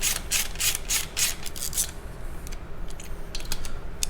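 A ratchet tightens a cam plate screw on a Harley-Davidson Twin Cam engine, giving a rapid series of close, crisp clicking strokes, first loud bursts and then lighter, quicker clicks, with no speech.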